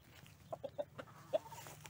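A rooster calling hens gives a series of short, soft clucking calls, four or five quick notes against a quiet low hum, faint and fairly close.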